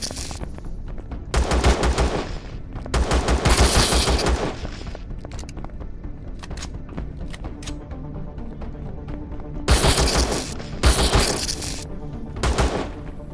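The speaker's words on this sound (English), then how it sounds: "Maybe they're just afraid of this loud gun." A loud automatic gun in Empyrion Galactic Survival fires several rapid bursts, two clustered early and more near the end, each a dense rattle of shots with quieter gaps between.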